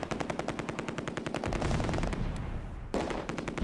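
Rapid bursts of machine-gun fire rattle close and loud in the WWII strategy game Close Combat: A Bridge Too Far at the Oosterbeek landing zone, volleys overlapping into a continuous fusillade with no talking.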